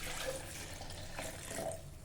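Water pours steadily into a mixer grinder jar holding black pepper and salt, a continuous close splashing rush with no talk.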